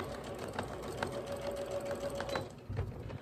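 A sewing machine stitches knit fabric for a top, a close, steady rapid mechanical whir that runs evenly throughout.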